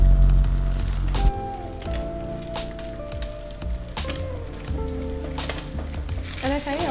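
Bacon sizzles and crackles in a frying pan, a steady close hiss with scattered pops, while utensils clink and tonal kitchen sounds come and go over it.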